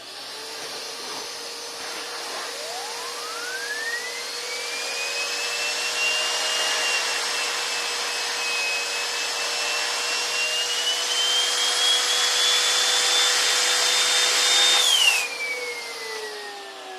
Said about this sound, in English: I performed a spin test with some suction.